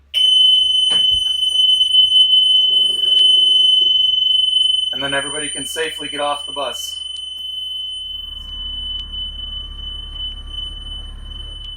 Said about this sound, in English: When you lift it, you're going to hear an alarm, but that's okay.